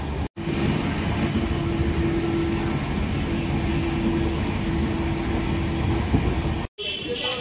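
A train rumbling at a railway platform near Jalpaiguri, a loud continuous low roar with a steady tonal hum across the stretch, broken by two brief cuts, with faint voices underneath.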